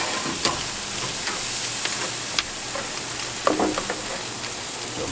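Meat sears over direct heat on a grill, giving a steady crackling sizzle with scattered sharp pops and spits at close range and no talking.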